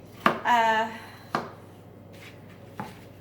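Three sharp knife chops land on a cutting board as potatoes are cut for canning, spaced about a second apart, near and moderately loud, with a brief voice-like sound between the first two.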